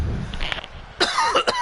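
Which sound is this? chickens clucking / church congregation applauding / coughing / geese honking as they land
coughing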